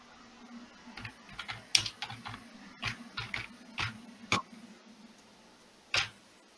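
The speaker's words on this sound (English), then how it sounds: "good typing" Keystrokes on a computer keyboard during an admin session for a U3A website, irregular bursts of close, clicky taps with pauses between, fairly quiet and alone with no talk.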